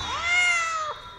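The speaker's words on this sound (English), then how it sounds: "We have a cat." A single drawn-out, high cat meow used as a sound effect in a Doctor Who fan audio drama, close and clear, bending slightly downward and ending with a brief catch, with no talking over it.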